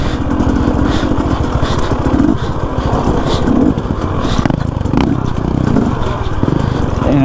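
A dirt bike churns over rocks in first gear, its engine chugging loud and close with throttle surges while the tires scrape and clatter across the stony ground.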